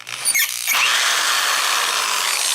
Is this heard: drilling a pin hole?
yes